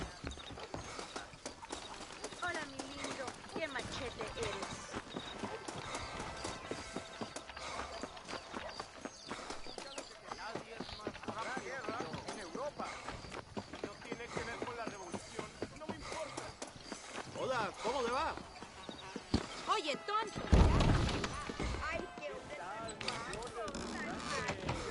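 A galloping horse in the video game Red Dead Redemption makes rapid, continuous hoofbeats under a voice talking throughout, with a louder thump near the end.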